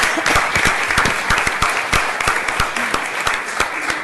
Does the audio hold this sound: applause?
yes